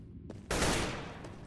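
A single loud gunshot rings out in CS:GO as a shot goes through a wall on the Overpass map, preceded by a faint click, with a short echoing tail.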